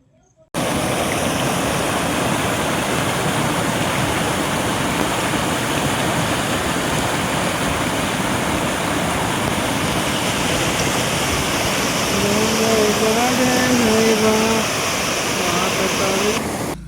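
Loud, steady roar of rushing water from the Vavkuva waterfall near Khanpur, Gujarat, continuous throughout, with a few faint voices surfacing near the end.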